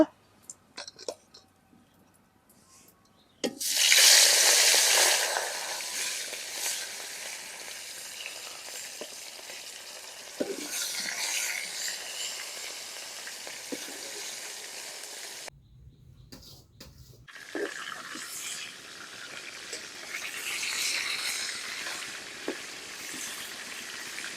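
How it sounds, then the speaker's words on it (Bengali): Fresh rohu or tilapia fish dropped into hot oil in a pot, bursting into a loud hissing sizzle that settles into a steady crackle, briefly cut off before the frying noise resumes. "তেল গরম হয়ে গেছে মাছ দিয়ে দিব"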